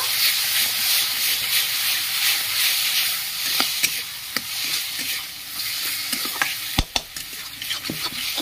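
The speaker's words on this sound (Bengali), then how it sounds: "এবার ভালো করে নেড়ে নেব।" Lentil dal with ridge gourd stirred in a pan while it sizzles, giving a steady frying hiss broken by scattered spoon scrapes and knocks, close and alone with no voices.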